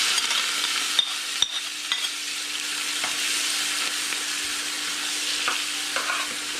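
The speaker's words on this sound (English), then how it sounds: "just frying up some seasoning, a tomato, some scallion, some onion," Seasoning, tomato, scallion, onion and a piece of thyme fry in a pan, giving a steady close sizzle with occasional stirring clicks and scrapes throughout.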